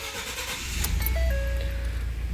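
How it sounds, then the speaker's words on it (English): A Ford F150 pickup engine starts with a short crank and catches into a low, steady idle close by, with a thin electronic tone chiming briefly over it. "Let's fire up the truck."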